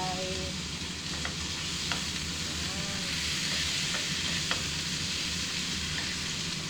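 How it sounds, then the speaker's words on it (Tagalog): Beef stir-fried with garlic and ginger in a pan, a continuous close sizzle with scattered clicks and scrapes of stirring throughout, no talk. "Konting stir fry."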